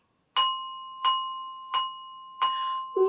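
Four or five bright, ringing struck bar notes, as on a classroom xylophone or glockenspiel, form a short repeating melodic ostinato, clear and close with nothing else audible.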